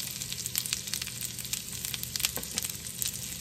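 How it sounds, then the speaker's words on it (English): Pear halves sizzling in a hot pan on the stove after being flipped, a steady crackling fry with small pops, moderately quiet and unbroken by talk. "I'm gonna flip my pears so they can cook on the other side."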